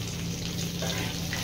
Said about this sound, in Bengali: মাছের কারি বানানোর জন্য প্রথমে রুই মাছগুলোকে ভেজে নিচ্ছি।